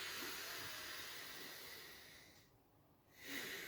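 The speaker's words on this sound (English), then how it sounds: "So breathing through my nose" A long, steady breath is drawn in through the nose, a close, soft airy hiss that fades, pauses briefly, then swells again.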